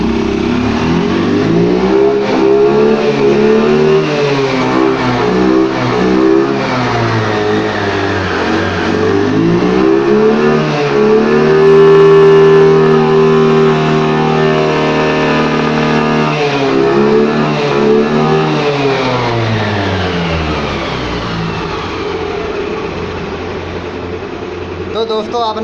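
A Yamaha Fascino scooter engine, fitted with a freshly cleaned air filter, revs up and down in repeated rising and falling sweeps, loud and close, with a sustained high rev in the middle before settling back.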